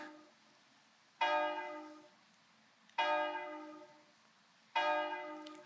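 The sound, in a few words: church bells tolling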